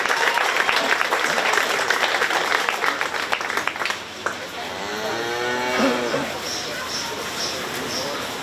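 Audience applause at a 4-H cattle show at a county fair, a broad steady wash of clapping through the first half that fades into background crowd noise, with a calf mooing in long drawn-out calls near the end.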